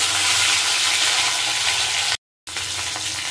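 Tomatoes drop into a hot frying pan with a loud, steady hissing sizzle of oil, continuous and close, broken by a brief silent gap near the end before the sizzling resumes.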